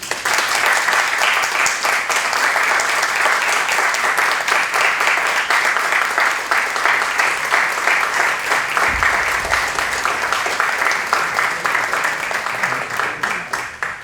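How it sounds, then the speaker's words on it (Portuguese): Warm audience applause after a talk on climate change and agrarian reform, a full, sustained clapping from a large group, loud and even for many seconds before tapering slightly at the end. "espero que eu tenha ouvido os calorosos aplausos aqui da nossa audiência, dos nossos participantes"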